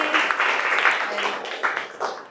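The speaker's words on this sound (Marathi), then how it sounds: "छान टाळ्या वाजवा सगळ्यांनी" Children and adults clapping together in a classroom quiz, a steady patter of applause lasting a couple of seconds with swells in intensity and voices mixed in.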